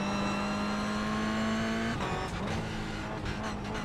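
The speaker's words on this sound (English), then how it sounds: "braking at the 300 mark, braking nice hard and late" A race car in a racing video game brakes hard and late approaching the Long Beach hairpin, its loud steady engine tone dropping sharply partway through, then rough tire and engine noise carries on at close range.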